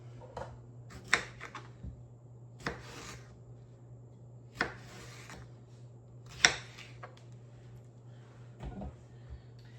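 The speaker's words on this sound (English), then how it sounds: "slice them in half, in quarters, and then slice them again" A knife slices tomatoes for sauce with several separate, crisp cuts spaced a second or two apart, each a short sharp tap against a board in a quiet kitchen with a low steady hum.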